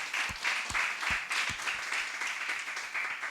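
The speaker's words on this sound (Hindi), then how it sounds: "ताली बजाए सुंदर वचन के लिए," A church congregation claps during a Hindi sermon, giving a steady wash of applause with a few sharper, closer claps standing out now and then.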